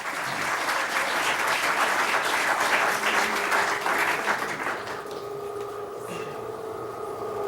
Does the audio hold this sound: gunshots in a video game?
no